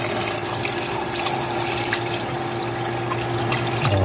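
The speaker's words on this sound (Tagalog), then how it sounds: "Saka tayo maglalagay ng tubig." Water pours steadily into a cooking pot for salmon belly sinigang, a close, continuous rushing stream with no pauses and no voices.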